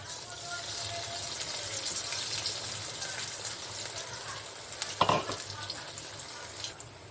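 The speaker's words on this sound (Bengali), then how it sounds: "এইভাবে সব বড়াগুলোকে আমি ভেজে নেব" Drumstick leaf fritters (bora) bubble and hiss steadily in hot oil, with a brief clatter of a utensil midway before the even frying noise resumes.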